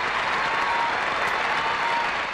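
Dense, steady audience applause fills a 1996 Taiwanese television talk-show studio, a loud, even wash of many hands clapping that holds throughout without any voices.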